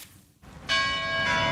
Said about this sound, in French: les cloches de la place rouge résonnent pour marquer le début officiel des commémorations